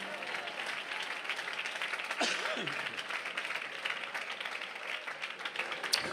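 A church congregation claps together in steady, sustained applause that fills the room, moderately loud, with a voice briefly heard over it.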